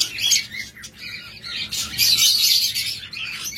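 A pair of six-month-old pet cockatiels or lovebirds sits close by, giving loud, shrill squawks and chirps in bursts with short gaps between them.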